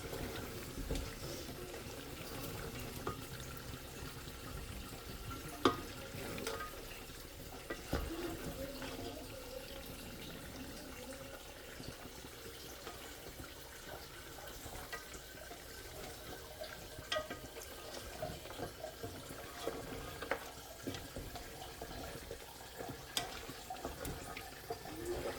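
Water runs steadily into a pot of browned trotters (paye) being cooked at home, a continuous close splashing and gurgling with scattered clinks, no voices.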